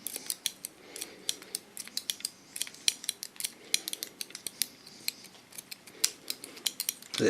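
Scissors slice-cutting short hair, a fast rhythmic run of crisp close snips and metallic blade clicks, repeating steadily throughout with no talking.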